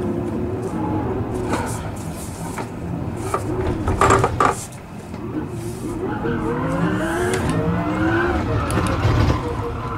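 Tires squeal as a race car spins out in the Gran Turismo Sport video game, with a steady engine drone and sliding screeches running through the whole stretch.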